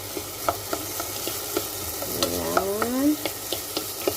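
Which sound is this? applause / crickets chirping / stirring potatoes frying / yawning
stirring potatoes frying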